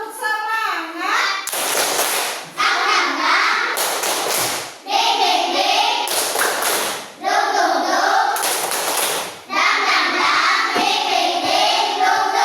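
Children in a third-grade Islamic school class do a rhythmic tepuk semangat clapping routine, bursts of hand claps alternating with children's chanted voices, loud and close in a classroom.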